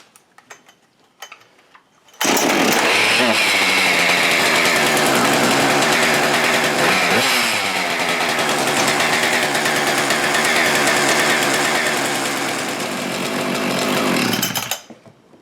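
A Husqvarna 575xp chainsaw engine, running without its flywheel, roars to life after a few quiet knocks and holds a loud, buzzing high-revving drone for about twelve seconds with small swells in pitch before cutting off abruptly.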